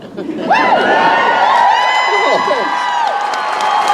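Fan convention crowd in Vancouver breaking into loud applause with whoops and cheers, sustained clapping and shouted voices filling the hall for several seconds, close and full.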